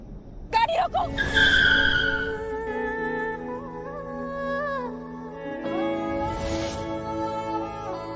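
A car brakes hard and its tires skid with a long, loud screech, joined by sustained tonal music and voices.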